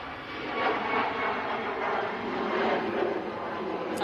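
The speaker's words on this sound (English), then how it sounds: "That was a Ryanair departing for Alicante." A Ryanair jet airliner departing from an airport, heard as a steady, broad engine roar with a rushing, rumbling texture that swells slightly and holds at a moderate distance.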